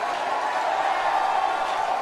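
A church congregation shouts in a continuous, dense roar of many voices, steady and fairly loud throughout.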